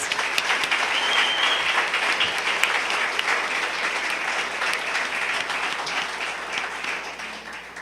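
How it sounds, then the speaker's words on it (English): A seated audience at a summer team final presentation applauds the team, a steady, dense wash of clapping that holds for the whole stretch at moderate loudness, with no voice on top. "let's give these guys another round of applause"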